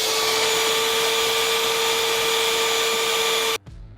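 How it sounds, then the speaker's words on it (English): A whisk mixer paddle churns thick ultra adhesive at steady high speed, a loud continuous motor whine that cuts off abruptly near the end, leaving a brief quieter rattle. "Brad then got hold of the whisk, unfortunately, and started to try and mix up our adhesive"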